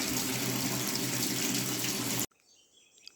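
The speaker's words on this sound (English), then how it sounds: "the water is constantly flowing at the fountain there" Water runs steadily from a fountain in an abandoned village in Calabria, southern Italy, a constant broadband splash that cuts off abruptly, leaving faint quiet ambience.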